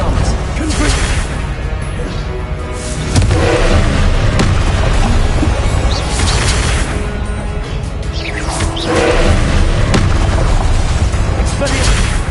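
Repeated Confringo spell blasts in the Hogwarts Legacy game on PS5, booming crashes and explosive bursts over a dense, busy game soundscape, with a louder swell partway through and shouted spell voices mixed in.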